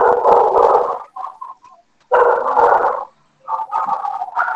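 A dog barks close by and loud in two long, rough bursts, with shorter yelps and whines between them and another run of barking at the end.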